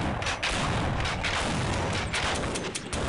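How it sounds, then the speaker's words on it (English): Gunfire in the Half-Life video game comes as a dense, continuous barrage of loud shots and booming blasts, filling the whole stretch without pause. "I'm shooting things."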